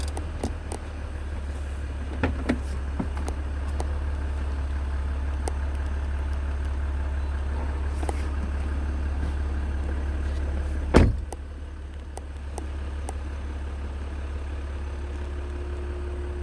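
A car idling and rolling slowly through grand entrance gates topped by a dragon statue, a steady low engine hum with scattered clicks and a sharp thump near the end, no voices.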